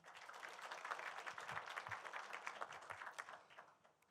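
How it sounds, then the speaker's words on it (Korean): Faint, steady applause from a forum audience in South Korea welcoming a speaker, sustained clapping that swells and then tapers off, heard from a distance. "교수님을 큰 박수로 맞이해 주시죠"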